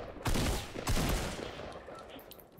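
Rapid AK rifle fire in a video game comes as two loud, close bursts about half a second apart, the second trailing off into fading echoes.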